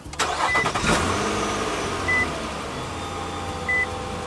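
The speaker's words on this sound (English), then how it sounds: "Car start." A 2015 Nissan Pathfinder engine cranks and catches, then settles into a steady idle, with a short electronic chime beeping twice more over the running engine.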